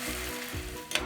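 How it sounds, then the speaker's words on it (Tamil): Ground paste sizzles while being sautéed for gobi manchurian, a brief steady hiss with a quick stirring scrape near the end. "நம்ம அரைச்சி வச்ச பேஸ்ட்டை சேர்த்து நல்லா வதக்கிக்கலாம்."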